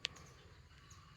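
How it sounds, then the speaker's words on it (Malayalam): A single short, bright bird chirp rings out outdoors in a plant garden with pepper vines, fairly faint and heard once near the start over a quiet background. "എന്തോ ഒരു കിളി ശബ്ദം ഉണ്ടാക്കുന്നുണ്ട് കേട്ടോ."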